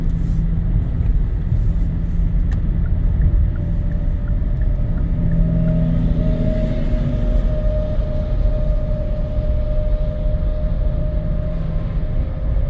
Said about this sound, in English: getting back on the highway here. And back up to 70 miles per hour.